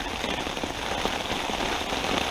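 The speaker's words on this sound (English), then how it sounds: "Yes, it's still raining. It's absolutely chucking it down. It's got even heavier now." Heavy rain hammers down steadily outdoors at a pike fishing spot, a dense continuous patter of drops on surfaces close by, with no voices.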